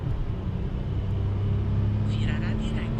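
A truck on a mountain road gives a steady engine rumble that grows slightly as it passes, heard from inside a car with no talk.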